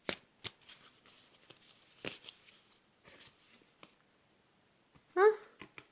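A deck of oracle cards is shuffled and drawn close up in soft, papery riffles and slides, with a brief voice sound near the end.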